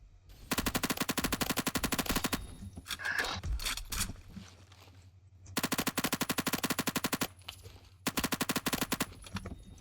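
Rapid automatic gunfire in the Roblox shooter Phantom Forces comes in three long, loud bursts of tightly spaced shots, separated by short gaps filled with reloading clicks and movement sounds.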